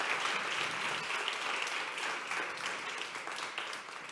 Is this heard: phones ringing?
no